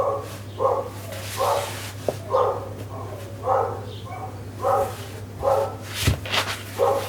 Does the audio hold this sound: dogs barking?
yes